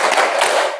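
A class of students standing together and performing the rhythmic '5S' clap routine in a junior high school social studies lesson, a dense burst of group clapping that is close and fairly loud and fades out quickly.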